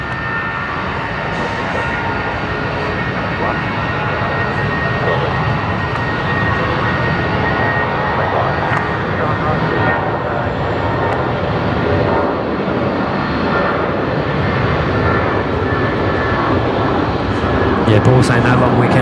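A Jetstar jet airliner bound for Avalon rolls for takeoff from taxiway Alpha 7 at Brisbane Airport at night, its engines producing a loud, sustained broadband roar that continues throughout.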